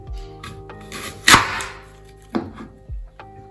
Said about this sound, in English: Chop up the apples.